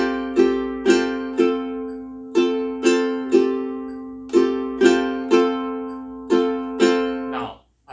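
A ukulele strums a steady phrase of about fourteen bright, evenly spaced plucked chords, each ringing and decaying before the next, played alone and fairly close.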